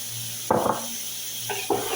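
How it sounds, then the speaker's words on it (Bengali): Onions sizzling in a pan, with two short bursts of stirring and utensil clatter against steady low frying noise. "আমি আগে পেঁয়াজটাকে ভাজি করে নিচ্ছি।"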